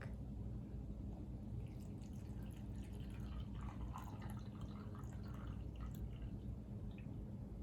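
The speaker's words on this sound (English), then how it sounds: "you're going to take your mixture and slowly pour it in the Ziploc." Homemade ice cream mixture is poured slowly into a Ziploc bag, giving soft, quiet trickles and scattered drips over a steady low background hum, with no talking.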